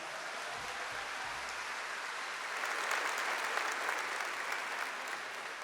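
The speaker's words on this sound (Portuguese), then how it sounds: "Então pode aplaudir a promessa." A church congregation applauds steadily, a dense, even wash of clapping that swells slightly midway and carries on throughout without voices.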